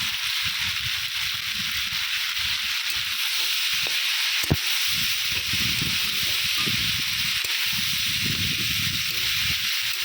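Banana flower, eggplant and potato frying in a pan with salt, a close hissing sizzle broken by scraping stirs and a sharp clack midway, loud and continuous without speech.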